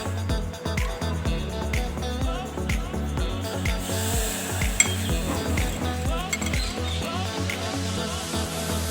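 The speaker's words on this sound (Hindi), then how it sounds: "ये जो मसाला हम फ्राई किए हैं, इसको हम इस तरह से इसमें भर लेंगे सारे परवल में" Spoon scraping and clinking against a pan while fried masala is stuffed into pointed gourd (parwal), soft repeated clinks and scrapes over a low steady kitchen sizzle and background music.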